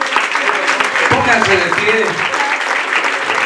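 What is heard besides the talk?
applause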